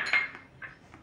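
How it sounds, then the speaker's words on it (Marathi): A spoon tips salt into a dish and clinks lightly against it: a sharp metallic tap at the start, then two softer clinks close by. "एक चमचा मीठ टाकणार आहोत"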